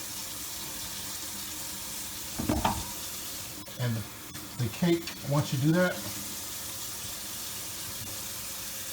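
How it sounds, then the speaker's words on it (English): Hot water runs steadily from a kitchen tap over an upturned cake pan, a constant soft hiss throughout, with a person talking over it partway through. "run it under hot water"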